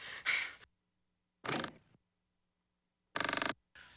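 A cartoon door creaks open in several separate strained squeaks, spaced apart by silence, the last one a rapid juddering creak followed by a shorter groan.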